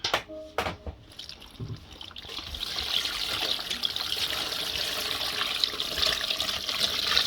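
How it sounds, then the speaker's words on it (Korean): Salt brine pours over cucumbers weighted down with a stone in a crock for traditional Korean oiji pickles, a steady close trickling and splashing of water that builds and runs continuously after a few knocks at the start. "넣으시고 물을 다시 부어주세요."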